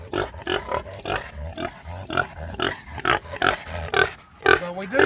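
A sow kept for raising show pigs grunts and snorts close by in short, repeated bursts with brief pauses between them.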